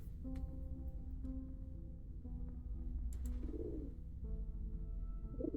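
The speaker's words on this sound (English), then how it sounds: "Several doves, almost ethereal in their luster, perch calmly on the edge of the president's desk." Doves cooing in the video game Reverse: 1999, soft repeated low coos over a quiet steady background hum, faint and calm, with a few brief flutters.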